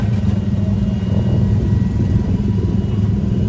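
A rail-guided ride car at Disneyland Paris rumbles steadily as it accelerates downhill, a loud continuous low engine-like roar that holds without a break.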